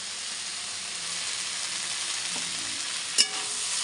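Soybean and potato curry sautéing in a pan with a steady, even frying hiss throughout, one sharp scrape of stirring near the end, no talking.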